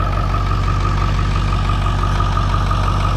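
A 7.3 diesel engine idles after sitting unused for three years, giving a steady, close, low rumble with an even mechanical clatter and no voices.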